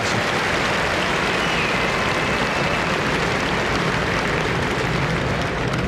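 A large arena audience at the NHL Draft applauds in a loud, dense, continuous wash of clapping that holds steady throughout.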